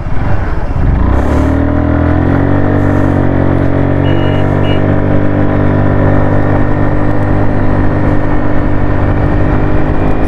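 A Hero Xoom 110cc scooter engine starts low and climbs quickly, then holds a loud, strained, high-revving drone as it runs toward top speed, close and steady for about ten seconds with no speech.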